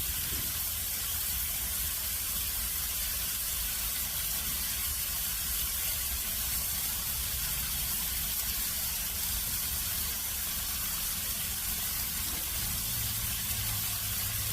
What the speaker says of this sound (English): Nothing sounds like bacon.